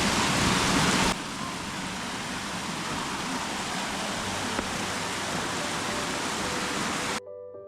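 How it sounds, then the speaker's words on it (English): A small waterfall on a muddy Smoky Mountains trail after a night of rain gives off a steady, broadband rush of falling water. It holds even and close, then cuts off abruptly near the end. "That little waterfall."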